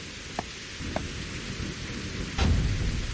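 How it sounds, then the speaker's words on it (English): Rain pours steadily in a survival video game while a loud thunderclap rolls in near the end, preceded by a couple of sharp drip-like ticks, with no talk over it. "Also, it's fucking raining, I guess."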